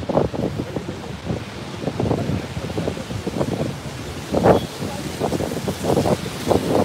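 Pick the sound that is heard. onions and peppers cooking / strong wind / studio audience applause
strong wind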